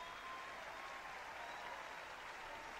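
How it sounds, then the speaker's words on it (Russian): Sustained applause from a crowd greeting a festival award win in a romance story video game, steady and dense throughout with no pauses. "Люди смеются и обрушивают на вас новый шквал аплодисментов."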